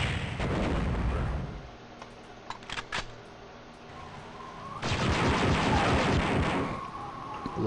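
Weapon fire from the Dark Forces video game arrives as loud, booming blasts with rumbling tails, first an opening burst, then sparse shots, then a heavy sustained volley.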